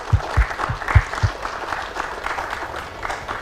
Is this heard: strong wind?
no